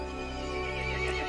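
A horse in the video game Resident Evil Village lets out a long, loud, wavering neigh that fills the brief moment, close and sustained throughout.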